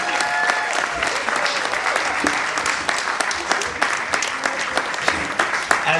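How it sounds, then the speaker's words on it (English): A theater audience applauds gypsy dancers with dense, sustained clapping that stays loud and close for the whole stretch, individual sharp claps standing out within the steady wash. "let's hear a round of applause for the gypsy dancers here"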